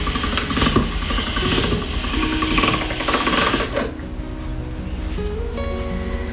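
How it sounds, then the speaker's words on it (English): A pasta machine rolls beet pasta dough with a steady mechanical whirring hum of gears and rollers, close and continuous, shifting to a lighter, smoother drone partway through. "pasta machine here, where you're guiding it through, making it smaller, the feeder"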